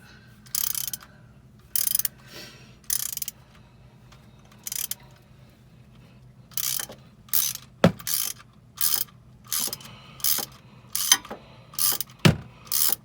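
Ratchet fitted with a 10mm socket working bolts loose on a 2005 Honda Odyssey during a neutral switch replacement, giving short bursts of rapid clicking, close and crisp, with a couple of sharp metallic knocks between bursts and no talking.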